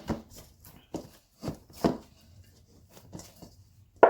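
Dough for Jamaican boiled dumplings, made with green banana, kneaded by hand on a surface, giving soft, irregular thumps and pushes spaced about half a second apart, close and quiet, with a sharper knock at the end.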